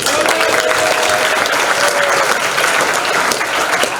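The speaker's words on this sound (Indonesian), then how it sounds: "Tepuk tangan buat dia." Students in a classroom at a Jakarta vocational school break into loud, sustained applause that fills the room evenly from start to finish, a dense wash of many hands clapping at once.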